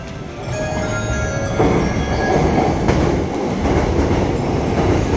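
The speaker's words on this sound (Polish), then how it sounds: "Właśnie pociąg podjeżdża." A train in Tokyo rumbles and rattles loudly into a station platform, steady heavy rolling of wheels on rails with faint metallic squeals, continuous and close.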